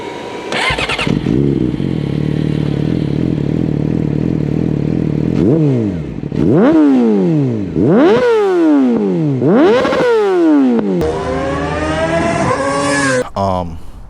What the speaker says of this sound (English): the Akrapovic titanium full system exhaust. This thing is gorgeous. It sounds so good